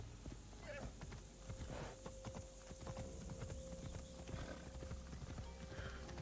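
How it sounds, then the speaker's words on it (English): Armored horse hooves clip-clopping steadily in Assassin's Creed Shadows, a regular near trot over continuous game ambience, with occasional whinny-like sounds and a sustained tone in the background. "we got our horsey with some samurai armor"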